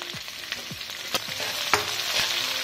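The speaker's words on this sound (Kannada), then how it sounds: "ಉದ್ದುದ್ದ ಹೆಚ್ಕೊಂಡಿರೋ ಒಂದು ಸಣ್ಣ ಈರುಳ್ಳಿ ಹಾಕ್ತಾ ಇದ್ದೀನಿ. ಇದು ಸ್ವಲ್ಪ ಬ್ರೌನ್ ಆಗಿ ಫ್ರೈ ಆಗಲಿ" Small lengthwise-sliced onion frying with spices in a pan, a steady bright sizzle punctuated by several scraping stirs at irregular intervals, close and without talk.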